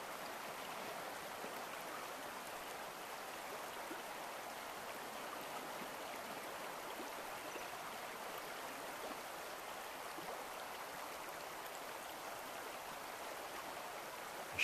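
A swift river current with white water churns steadily in the Alaskan wilds north of the Arctic Circle, a constant broadband rush that stays loud and even throughout, with no voices.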